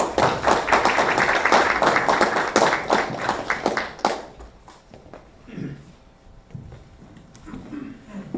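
An audience at an academic conference opening gives a burst of dense clapping for about four seconds, which then fades into scattered taps and room shuffling.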